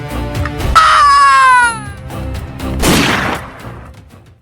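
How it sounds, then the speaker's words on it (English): A dramatized barrage of gunfire, bullets and arrows strikes a wooden cabin, with sharp bursts and a rising, whistling sweep, followed by a loud harsh crash and a fading roar. "Uma chuva real de projéteis caiu sobre a cabana"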